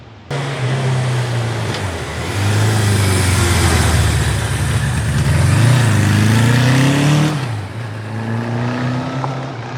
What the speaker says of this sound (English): feast your eyes on this classic 1982 Suzuki GS1100G